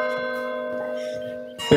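A church bell rings with a steady, sustained tone that lingers, then a brief louder clatter near the end.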